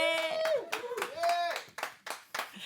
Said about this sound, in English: So give her a warm round of applause.